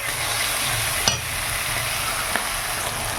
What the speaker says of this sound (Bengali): দিয়ে একটুখানি নাড়াচাড়া করে দিই